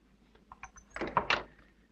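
A door closes quietly indoors, a soft short thunk and scrape after faint shuffling, close but low in level, with no talk.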